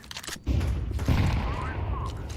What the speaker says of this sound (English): I'm throwing the flashbang